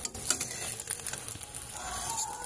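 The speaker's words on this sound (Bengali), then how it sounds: "এই ডিমটা ভাজছি" An egg fries in a pan with onion, giving a steady close sizzle with crackling and patter that holds throughout, alone with no talk.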